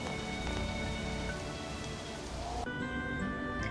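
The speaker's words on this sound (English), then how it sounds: "Now it's raining, so nobody's gonna be outside, which sucks." Steady rain pours in the Harvest Moon: Animal Parade farming game, a dense, even hiss of drops hitting surfaces that continues without break, fairly loud and close, with no voices over it.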